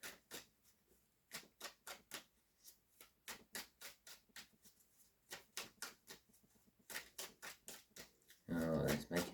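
Rapid crisp tarot card shuffling, quick repeated riffling bursts in a steady rhythm, close up, ending in a louder, denser flurry of noise.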